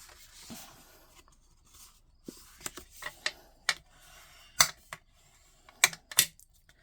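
A paper card being folded up by hand at a crafting table, with a series of sharp, close crinkles and creasing taps spaced irregularly, several clustered toward the end, with no talking.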